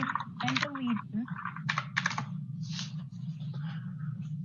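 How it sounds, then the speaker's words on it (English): Typing on a computer keyboard during a commission meeting, a run of quick clicking keystrokes in uneven bursts under a steady low hum. "I'm sorry, there was typing."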